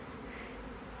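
Honey bees swarm around their hives in a spring apiary, a dense, steady buzzing of many insects that fills the whole second at constant moderate loudness with no voices.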